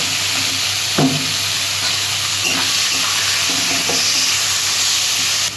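Grated onion dropped into hot oil tempered with cumin seeds and bay leaf, frying with a steady close sizzle and a few stirring scrapes throughout, no voices.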